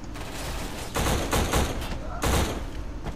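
Short bursts of automatic gunfire in a military shooter video game, several loud, close clusters of shots standing out over continuous background game noise.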